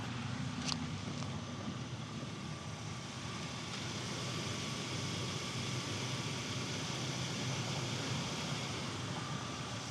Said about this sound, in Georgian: და აი ძრავის ხმა ეხა.